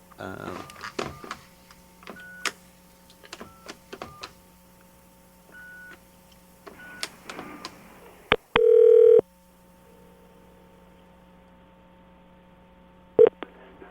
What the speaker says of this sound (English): Calling him up.